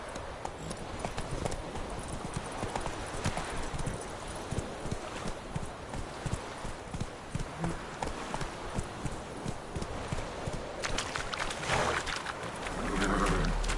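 Hooves of a horse gallop in The Witcher 3 video game, a fast, steady clip-clop rhythm at moderate loudness that runs throughout with ambient game noise beneath.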